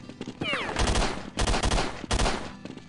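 Counter-Strike 1.6 gunfire in rapid bursts of loud, sharp shots, grouped into three clusters separated by short gaps, with brief in-game radio chatter mixed in.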